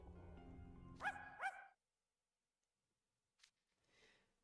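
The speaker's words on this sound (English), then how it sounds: "That bark." Dog barking in the video game Twisted Wonderland, two sharp close barks over a low ambient game hum, followed by silence and faint stray noises.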